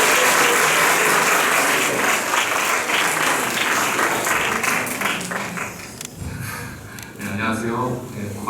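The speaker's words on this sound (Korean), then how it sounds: "마음을 담아 박수로 모셔보겠습니다." A church crowd at a high school summer retreat gives loud sustained applause to welcome the pastor, thinning out toward the end as some voices and breaths come through.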